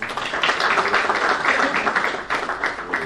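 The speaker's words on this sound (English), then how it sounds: "A round of applause." An audience at a formal ceremony gives the guest of honour steady, fairly soft applause, a dense patter of many hands clapping at once.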